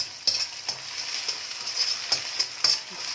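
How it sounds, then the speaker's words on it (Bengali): An egg fries in oil in a pan for prawn fried rice, giving a continuous close sizzle punctuated by a handful of crisp spatula scrapes and taps at irregular intervals. "একদম লাল করে ডিমটাকে আগে আমি ভেজে নিলাম।"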